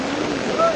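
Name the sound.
fast-flowing floodwater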